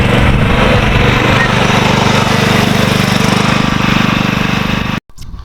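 A Texas TTC102H ride-on lawnmower with a 452cc petrol engine runs loud and close with a rapid, even chugging pulse that drops away sharply at the end.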